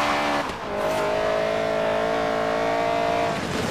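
A Toyota Trueno AE86 drifting in Forza Horizon 3, its engine holding a loud, steady high-revving drone with a tonal whine that dips briefly early on and carries through to the end, with no talk over it.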